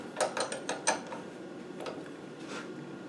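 Small metal injector nozzle parts are tightened with a wrench in a few quick ratcheting clicks close by, followed by quieter fiddling with the parts in an otherwise quiet workshop.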